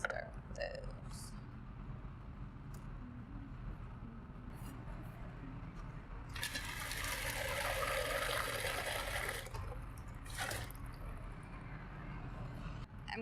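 Tap water running into a pot for boiling carrots and turnip, a steady broadband rush lasting a few seconds in the middle and then stopping, with quiet kitchen handling around it.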